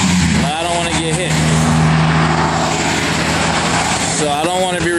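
Cars and trucks rush past on a freeway beside a tow truck stopped at the roadside, a loud continuous roar of traffic with engines rising and falling as vehicles go by close at hand.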